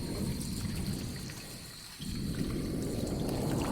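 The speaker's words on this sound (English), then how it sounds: "You can hear this is some water also." Water like rainfall mixed into a remix, a dense continuous patter with a low rumble that dips briefly midway, then swells back, with no talk.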